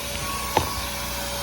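Steady whirring hum of a vacuum cleaner running inside a car's interior during mobile detailing, constant and fairly close, with one brief knock or bump partway through.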